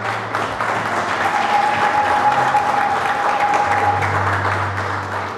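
A church congregation breaks into sustained applause during a French-language sermon on prayer, a dense, even wash of clapping from many hands that holds steady and fades slightly at the end.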